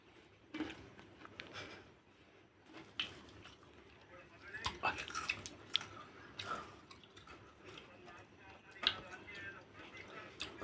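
Someone eats a snack dipped in curd mixed with sugar and a little pepper, with soft, close chewing and biting that repeats irregularly throughout, alongside faint background voices.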